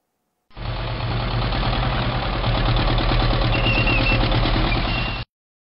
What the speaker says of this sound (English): Tank.